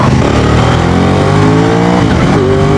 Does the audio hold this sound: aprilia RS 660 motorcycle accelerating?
yes